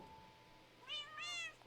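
A Minecraft cat gives two short synthetic meows in quick succession, the second slightly longer, close and clear over a quiet game background with a faint steady tone.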